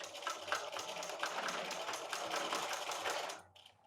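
A sewing machine runs steadily, stitching binding onto a color-block quilted throw, its rapid mechanical clatter close and loud before it stops abruptly near the end.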